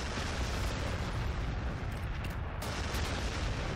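Frag missiles explode in a Warhammer 40,000: Sanctus Reach battle, a dense continuous roar of blasts and rumbling booms that stays loud and steady throughout, with no voices.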